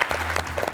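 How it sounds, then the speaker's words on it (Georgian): Audience applause for the Saltkrokan team at a book quiz show, a dense, steady burst of many hands clapping together, loud and close throughout the short moment. "აპლოდისმენტები კიდევ ერთხელ სალტკროკელებს"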